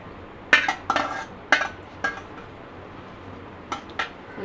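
A spoon scrapes and clinks against a metal pot while stirring sweet chakkara pongali with fried coconut pieces and ghee, giving about six sharp, uneven knocks with quiet gaps between.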